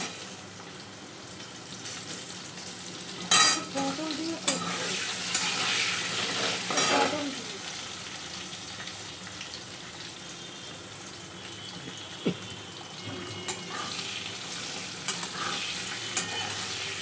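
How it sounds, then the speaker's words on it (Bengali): Potato and papaya frying in a pan with a little panch phoron, a continuous low sizzle broken by a few louder stirring scrapes and clatters, nobody speaking. "আলু পেঁপেটা একটু ভেজে নিয়ে তারপরেই মশলাটা দিয়ে দেবো"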